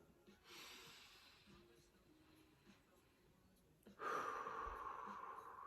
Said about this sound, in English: Just a really deep breath in and a really deep breath out.